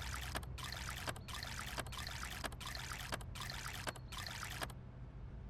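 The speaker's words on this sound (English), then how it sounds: "let's go ahead and drink some more water." Drinking water in the zombie survival game VEIN: seven evenly spaced bursts of gulping, splashing water sound in a steady rhythm, fairly close, followed by quiet.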